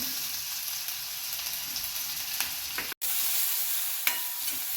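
Garlic and finely chopped green chili sautéed in a pan for safflower leaf bhaji, a steady close sizzle with light stirring scrapes and a brief cut partway through.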